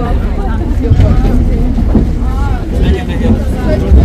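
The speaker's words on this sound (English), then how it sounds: "So this is our boat guys, we're going from Almada to Lisbon." Ferry crossing from Almada to Lisbon on a foggy day, with a steady low engine rumble and wind across the microphone running throughout, while people talk over it.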